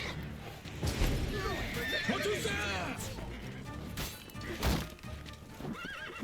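Roach the horse in Witcher 3: Blood and Wine whinnies loudly and repeatedly, with hoof clops and thuds, while someone talks over it.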